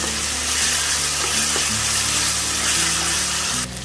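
Vegetables with onion and tomato frying in hot mustard oil for an aloo matar malai, a steady close sizzle with faint stirring and watery crackle throughout, no talk, ending abruptly.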